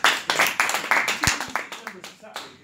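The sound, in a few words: applause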